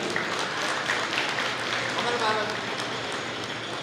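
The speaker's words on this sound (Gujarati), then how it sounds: "આપણે જોરદાર તાળીઓથી વધાવીએ." A seminar audience at a Lions Club business event in Savarkundla gives dense, continuous applause that holds steady throughout.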